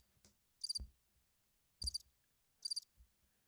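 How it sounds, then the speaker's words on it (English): A cricket chirp effect sounds three times in short, bright, pulsed bursts spaced about a second apart, crisp against near silence, with faint low thumps between them. "all I hear crickets"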